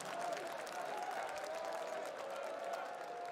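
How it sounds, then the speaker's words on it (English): A large esports arena crowd at a Counter-Strike major in Stockholm roars and claps steadily, a dense sustained wash of noise with a commentator's voice over it. "And the cheering sections."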